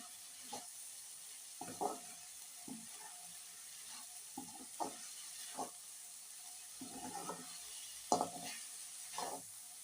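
Watermelon rind stir-fry being stirred in a pan, a spatula scraping and tapping in short, irregular strokes over a faint, quiet kitchen background.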